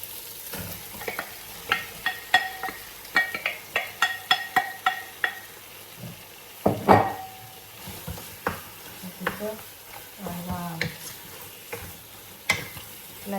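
Chicken biryani mixture frying in a pot while being stirred, repeated scraping strokes of a spoon against the pot over a low sizzle, with a few clinks.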